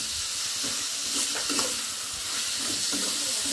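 Curry being stirred with salt in a pan, a steady sizzle with scraping, stirring strokes close by, no talking.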